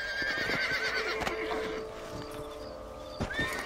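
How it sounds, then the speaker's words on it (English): A horse in the Western video game Red Dead Redemption neighs loudly with a long whinny, with game music and hoof sounds around it and a second short whinny near the end. "Ó, o cavalo vai tá bravo, Pocotó"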